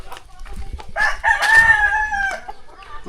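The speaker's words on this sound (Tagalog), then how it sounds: "Silip-silip tayo dito ng mga manok." A rooster crows loudly nearby in one long, drawn-out call among chickens clucking and shuffling around it, with soft background noise and a few brief voices.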